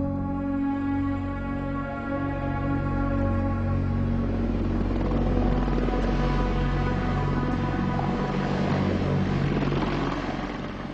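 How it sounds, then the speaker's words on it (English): An Apache attack helicopter flies steadily nearby, its engine and rotor droning loudly and continuously with a rich, layered hum throughout. "The Apache is widely recognized as one of the meanest combat helicopters in the world."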